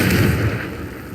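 A single Confringo explosive spell blast from Hogwarts Legacy lands as a loud, deep burst that rolls off into a fading rumble over about a second, with no voices.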